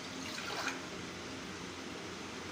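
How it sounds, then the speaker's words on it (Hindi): A glass of water is poured into a cooking pot for rice and chana masala, making a steady, rushing splash that stays even throughout and is heard without talking. "1 गिलास हमने पानी इसके अंदर डाल दिया।"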